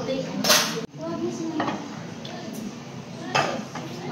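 Plates and a serving spoon clatter and clink in a few close, brief knocks and scrapes, while people talk nearby.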